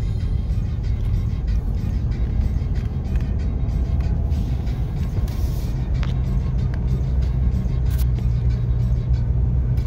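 Car engine on the winding mountain road between Acatlán and Palomas while preparing to overtake another car: a steady, close, low rumble of engine and road noise with no talking.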